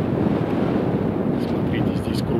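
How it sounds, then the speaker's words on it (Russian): Strong wind buffets the microphone in a constant loud roar, with faint higher tones flickering near the end. "Дует сильный ветер"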